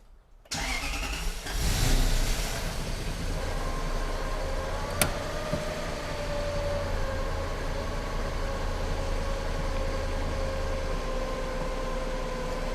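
Toyota 1UZ V8 swapped into a Subaru BRZ cranks and fires, a short rev flaring up before settling into a steady, loud, close idle that runs uninterrupted with no talk.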